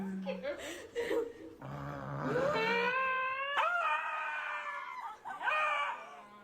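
A dog howling and yelping in drawn-out, rising wails with growly bursts in between, close and loud, while people talk nearby.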